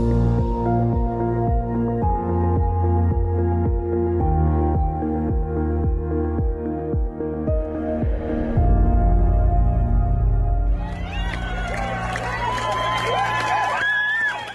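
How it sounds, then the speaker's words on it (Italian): Iranian protesters fill a street with loud, rhythmic chanted shouting, a dense crowd roar that swells into a continuous wall of voices and then breaks into scattered higher cries and whistles. "Questo è il suono della protesta, queste sono le grida dell'indignazione degli iraniani"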